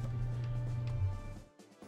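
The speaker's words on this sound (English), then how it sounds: "The garage door is opening." A home garage door grinds open in a low, steady mechanical hum that runs for about a second, then drops away into quiet near the end.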